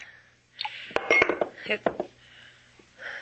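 Drinking glass and water pitcher clink together on a table in a series of sharp, bright taps and rattles, spaced irregularly, with faint voice-like murmurs between the strikes.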